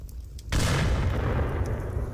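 A grenade explodes in the Onward VR shooter game: a sudden loud blast after a brief quiet moment, followed by a heavy rumbling decay.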